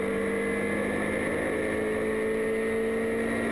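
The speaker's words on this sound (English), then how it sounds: "On board now with Mike Robinson, accelerating his way down towards Hawthorns." Ginetta race car heard onboard at Brands Hatch during a Ginetta Challenge race, its engine a steady, loud drone with sustained harmonic tones holding throughout, no talk.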